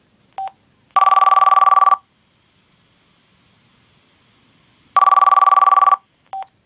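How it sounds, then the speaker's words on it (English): An old basic cell phone ringing with its built-in tone: two long, loud electronic trill bursts several seconds apart, each flanked by short beeps, with silence between and no voices. "This is the ringtone for the phone."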